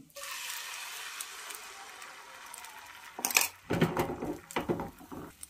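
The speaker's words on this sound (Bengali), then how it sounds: "গরম হয়ে গিয়েছে, তেলের মধ্যে দিয়ে দিচ্ছি ফেটিয়ে রাখা ডিম।" Beaten eggs hit hot mustard oil with a loud, bright sizzle that hisses steadily for about three seconds, then gives way to close clattering and scraping bursts.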